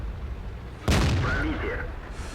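An artillery shot in a Soviet tank video game, one sudden loud boom followed by a fading rumble over steady background noise.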